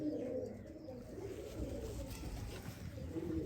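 A Sialkoti pigeon coos in low, throaty pulses, close by and steady against a faint background murmur, with no talk over it.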